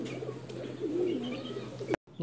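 Pigeons cooing softly around a loft, a low murmuring coo over faint background noise, ending with a brief cut.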